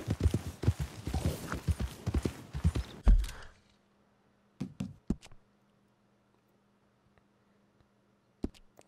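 Horse hooves clop in Red Dead Redemption 2 near Valentine, a few short hoof knocks in small clusters after a busy burst of game sound, then near silence over a faint steady hum.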